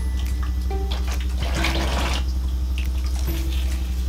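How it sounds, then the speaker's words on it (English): Running water rinses baking soda out of a wig, a steady faucet stream with splashing that swells in the middle, close and fairly quiet, no talk. "Now that your wig has a minute to sit there and get all of the gunk off of it with the baking soda, you can go ahead and rinse that out."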